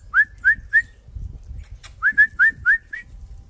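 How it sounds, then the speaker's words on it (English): A person whistles to call alpacas, a series of short rising whistled chirps, three then a pause then six more in quick rhythm, close and clear with faint rustling between. "I like that whistle."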